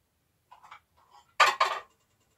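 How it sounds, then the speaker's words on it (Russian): A couple of soft clinks at first, then two louder clattering knocks as a plate is lifted and set against something nearby. "сейчас я возьму тарелку"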